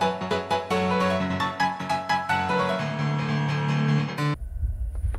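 A piano melody from the video game Fatal Frame: Mask of the Lunar Eclipse plays as a short run of struck notes with resonant sustain, ending abruptly and giving way to low ambient rumble.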